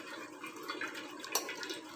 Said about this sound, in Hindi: इस पर हम थोड़ा सा पानी डाल देंगे